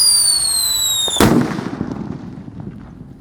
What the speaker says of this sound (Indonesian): Kita nyalakan. Seperti itu Pearl Thunder.